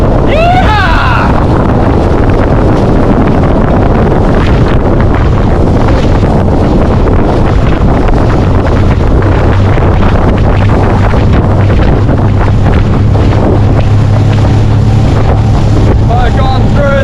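A fishing boat motoring slowly through choppy sea in strong wind off Stanage Bay, with loud continuous wind buffeting on the microphone, engine drone and slapping water throughout.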